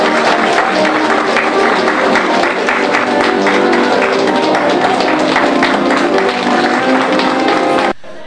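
Loud, sustained applause from a crowd filling a festive hall at an anniversary celebration, steady and dense throughout before cutting off abruptly.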